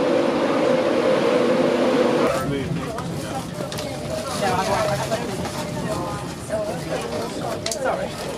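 Inside a Mark 4 coach as a class 91 InterCity 225 departs Doncaster: a steady rumble and whine of the moving train fills the cabin, with a low electrical hum and rattles, while people talk over it.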